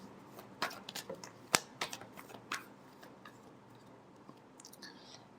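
Tarot cards are shuffled close up in a quiet room, making a run of quick crisp riffles and flicks that fade to faint rustling toward the end.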